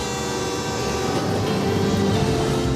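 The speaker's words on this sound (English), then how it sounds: "Mister, there's a train coming!" A loud, continuous rumbling roar of a train bearing down fills the scene without pause, dense and close, with no voices heard over it.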